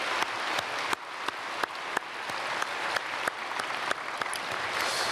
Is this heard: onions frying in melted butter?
no